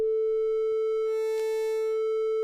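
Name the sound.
BLEASS Megalit synthesizer waveform morphing from sine to triangle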